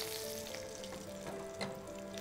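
Mupparuppu vadai, three-lentil fritters, frying in oil: a quiet, even bubbling sizzle over a faint steady hum, with no talking.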